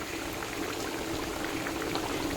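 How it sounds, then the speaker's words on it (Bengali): A little cooking oil is poured into a pan for a home-cooked Bengali meal, giving a steady, even hiss of liquid that runs unbroken from start to finish at moderate volume, with no voices. "এবার জাস্ট একটুখানি তেল ঢেলে দেবো"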